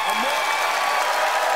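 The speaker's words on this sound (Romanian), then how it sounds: "aplauze furtunoase pentru invitatul special de astăzi" Audience at a Romanian comedy show applauding a special guest, a loud, dense, continuous burst of clapping with a crowd cheering through it, filling the whole short moment.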